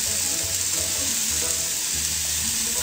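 Roasted yellow pepper paste sizzles steadily in a hot pan and is given a quick stir, a dense close frying hiss with faint scraping underneath and no speech.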